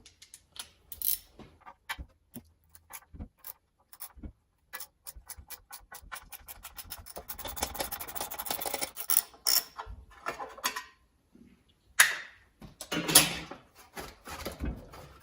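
A 5/16 wrench works bolts loose on a seized 1974 Toro engine, producing sharp ratcheting clicks in irregular bursts and runs, close up, separated by brief pauses and a few clanks.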